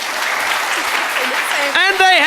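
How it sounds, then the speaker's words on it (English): A crowd applauding in a sustained burst of clapping at a parliamentary debate, with a voice cutting in near the end. "please clap louder"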